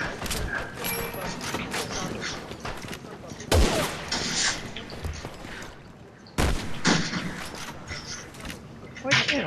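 Resident Evil 6 gunfire during the Chris and Piers campaign: two loud, sharp shot bursts ring out over a dense, continuous layer of in-game battle noise and mechanical clatter.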